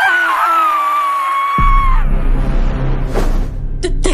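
Two voices in a Filipino horror audio drama scream together in a long, loud, wavering cry that breaks off abruptly, followed by a low rumble and a couple of sharp thuds.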